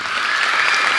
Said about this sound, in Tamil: இங்கே இருக்க எல்லாருக்காக ஒரு பெரிய கைத்தட்டல்